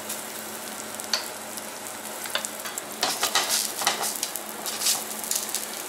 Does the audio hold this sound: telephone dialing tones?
no